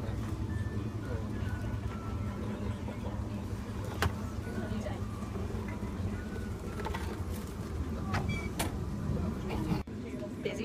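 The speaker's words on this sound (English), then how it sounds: "Busy train." Inside a busy train, a low steady rumble of movement and carriage noise runs throughout, with scattered clicks, faint squeaks and a few sharp knocks, fairly quiet overall.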